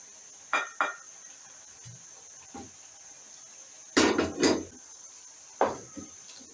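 Cauliflower being tossed with black pepper, black salt and carom seeds, heard as a handful of short, close clinks and scrapes against a dish in irregular bursts over a steady faint hum.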